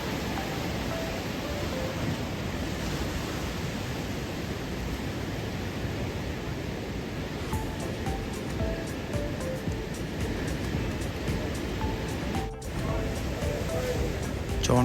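Ocean surf at Tunnel Beach, Dunedin, New Zealand, roars as a dense, steady wash of crashing waves, loud and unbroken throughout, with a faint rustle of wind and handling near the end.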